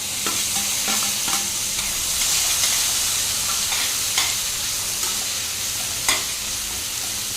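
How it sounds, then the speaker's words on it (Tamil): Onions, bitter gourd and tomato sautéing in a pan for a village-style bitter gourd thokku, with steady sizzling and frying and a few sharp scraping stirs of a spoon against the pan. "வெங்காயம் எல்லாம் நல்லா பொன்னிறமாக வதங்கிடுச்சு பாவக்காயும் நல்லா வதங்கிடுச்சுங்க"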